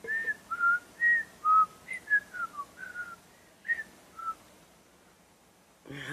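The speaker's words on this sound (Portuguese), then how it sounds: "Como que você assobia?" A woman whistles a short, halting tune in a series of clear, close pitched notes with small pauses, fading near the end before a brief rustle at the close.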